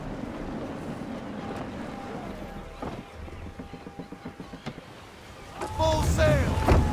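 Gusty wind while sailing a ship in Assassin's Creed III, a soft steady rush with creaking and rhythmic flapping, then a louder surge of game sound near the end, faint overall.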